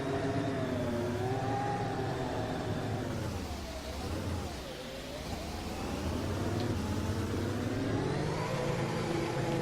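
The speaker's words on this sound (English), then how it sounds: "let's punch up first gear, bring up the revs a bit, and let's drive this 2017 Works Ferrari" A 2017 Ferrari SF70H Formula 1 car in the Assetto Corsa racing game revs loudly in first gear, a steady close-up engine howl whose pitch sags midway and then climbs back up, with no talking.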